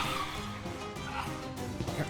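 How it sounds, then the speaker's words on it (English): Dog barking and yipping in the video game Flynn: Son of Crimson, a few short yaps layered over a steady bed of game music, moderately loud throughout. "Dog."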